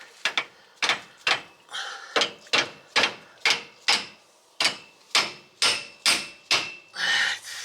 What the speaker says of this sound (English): The black hammer.